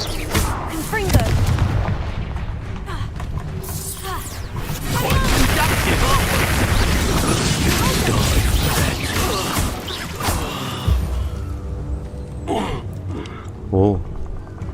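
Confringo fire spells in Hogwarts Legacy, with rumbling blasts and crashes booming through most of the stretch, over and under a person talking.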